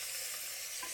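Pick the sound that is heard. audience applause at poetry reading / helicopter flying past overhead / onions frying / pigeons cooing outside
onions frying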